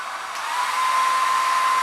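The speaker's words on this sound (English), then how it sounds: "Now I am going to take an hair dryer." A hair dryer switched on for a physics demonstration gives a loud, steady airy roar with a thin whine that holds constant throughout and builds slightly as it gets going, with no talking.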